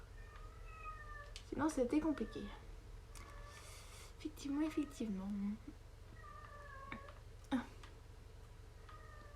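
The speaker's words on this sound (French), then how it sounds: "Il y a le chat qui râle." Close by, a cat meows and grumbles in several short, rough bursts, with a person speaking quietly in between.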